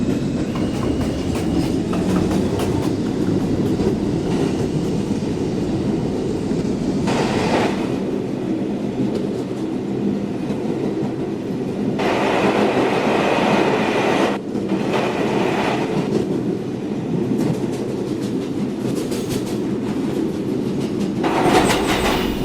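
An R142 New York subway 3 train runs along the tracks, a steady loud rumble with clickety-clack wheel beats and bursts of higher rail noise, heard from on board with no talking.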